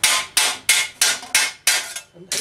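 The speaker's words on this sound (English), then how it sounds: "So the hammer's doing the work, and the stake is more of a support." Steel hammer blows on a medieval steel thigh plate held over a stake: six evenly spaced, loud, ringing metallic strikes, each decaying quickly before the next, with no voices.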